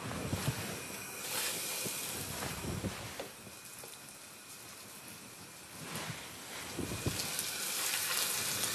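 A large piece of veal shank goes into very hot, thin oil for osso buco, a continuous fizzing sizzle with bursts of crackle, close and moderately loud, no voices.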